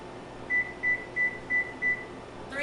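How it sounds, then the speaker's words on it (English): A home oven's control panel beeps five times in an even, steady rhythm while being set to preheat, each tone short and clear above a soft background hum in a quiet kitchen. "preheat my oven"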